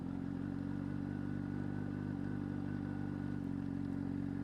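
A Honda CBR600RR motorcycle engine idles low and steady while rolling on the clutch without throttle, a constant rumble with faint mechanical clatter and no revving, throughout.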